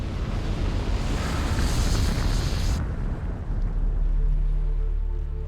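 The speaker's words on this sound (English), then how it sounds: "there was a nuclear explosion out over the Pacific Ocean" A nuclear explosion over the Pacific Ocean roars as a loud, sustained broadband rumble; the bright high hiss cuts off midway, leaving a deep low rumble that lingers steadily to the end.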